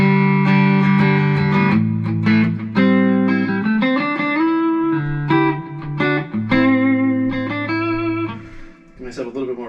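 A Squier Classic Vibe 60s Stratocaster electric guitar played through digital reverb, ringing chords and melodic single notes with sustained tails, loud and close.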